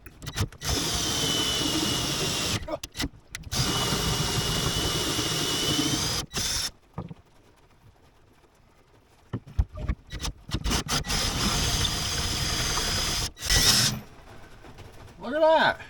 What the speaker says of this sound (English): I have another drill. I'm gonna go get it, and we'll keep punching through this thing.